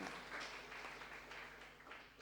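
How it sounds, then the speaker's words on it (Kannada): Audience at a Guruvandane and Pratibha Puraskara scholarship award ceremony clapping steadily to encourage the children, a faint, continuous wash of applause from a hall crowd with no one speaking. "ಎಲ್ಲರೂ ಚಪ್ಪಾಳೆ ಹೊಡಿರಿ, ಮಕ್ಕಳನ್ನು ಪ್ರೋತ್ಸಾಹಿಸಿ"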